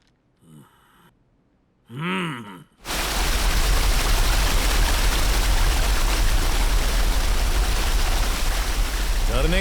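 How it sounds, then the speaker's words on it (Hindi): Waterfall spray roars as a loud, steady rushing hiss close by, starting abruptly after a few seconds of breathy human sounds and gasps, then continuing unbroken. "झरने का छीटा मस्त आ रहा है"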